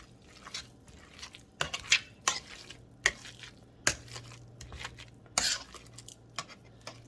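Fried bologna casserole ingredients are mashed and stirred in a pan, giving irregular close scraping clicks and soft squishy thuds from a utensil against the pan over a low background hum, with no talk.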